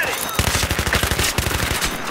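Rapid bursts of Battlefield 3 gunfire, rattling in fast automatic volleys, loud and close, with a faint voice underneath.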